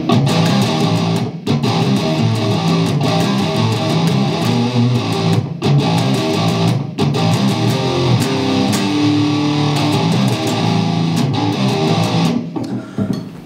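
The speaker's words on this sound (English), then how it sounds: "So it's like sounds like this up to speed again." A heavily distorted electric guitar riff played up to speed, loud and close, chugging palm-muted rhythm broken by short stops and ringing notes, with no voices.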